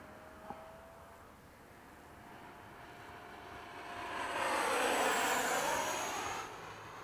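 An E-flite 80mm F/A-18D electric ducted-fan RC jet makes a flying pass after sunset, its whine swelling from faint to a loud, airy rush overhead and then easing off, with no talk.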